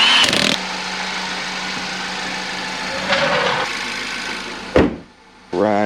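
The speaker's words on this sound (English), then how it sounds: "So I'm gonna let it idle, get it to full temp" A Ford Focus engine idles steadily up close after a transmission installation, a constant mid-pitched hum with a brief louder swell near the end, a sharp knock, then a short dip before the idle resumes.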